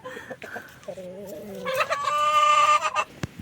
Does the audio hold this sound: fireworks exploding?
no